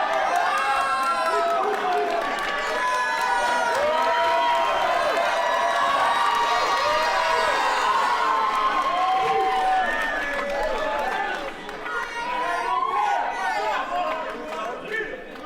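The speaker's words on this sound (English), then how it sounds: "Crowd goes wild." At a championship slap fighting match, a crowd roars and cheers wildly, dense shouting and yelling voices swelling together, loud and sustained before easing slightly near the end.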